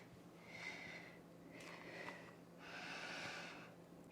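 Breath during a yoga session at home, three slow, airy breaths through the nose, close and soft, spread evenly across a few seconds with no talking.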